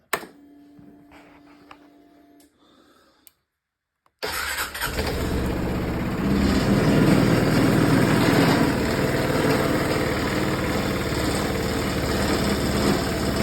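A Royal Alloy GP300 scooter engine fires up after a few quiet clicks and a short silence, then settles into a loud, steady idle with a slight rise as it runs on, close by.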